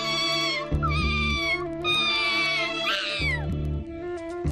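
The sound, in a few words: kitten meowing in a cartoon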